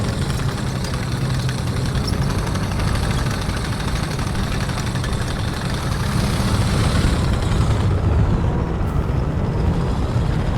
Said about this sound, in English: Hear another engine in front of us.